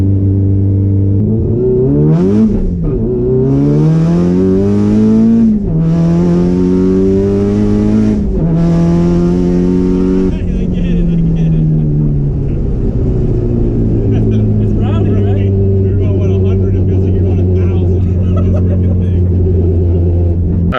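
Porsche 911 GT3 RS engine while driving, loud and close, sweeping up in pitch through several rising revs with brief gear-change dips, then settling into a steady lower drone as people talk over it.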